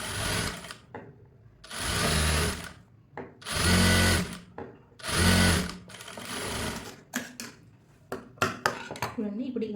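A sewing machine stitches a blouse hem in three bursts of steady motor whirring, each lasting over a second, followed by sparse clicks and handling clatter. Speech is not evident.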